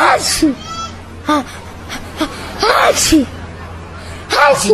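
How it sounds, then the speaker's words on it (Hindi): A child sneezes several times in quick bursts amid chatter and a crowded arrival scene, each sneeze sharp and close. "तेरी छींक हमेशा चालू रहती है क्या?"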